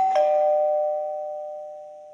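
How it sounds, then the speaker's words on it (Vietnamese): A household doorbell rings once with a bright struck chime that rings out in a long, clean tone and fades slowly, heard alone. "Bà nội về thì làm sao mà bấm chuông?"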